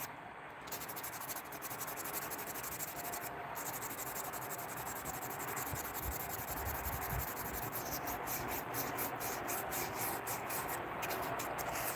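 A sling sanded by hand with 1000 grit sandpaper, a soft continuous rasping rub with rapid back-and-forth strokes, faint and close, with no talk.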